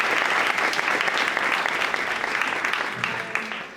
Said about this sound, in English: So can we give ourselves a round of applause?